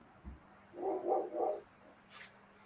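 A single dog barks three quick times in a row, faint and somewhat distant, against a quiet indoor background.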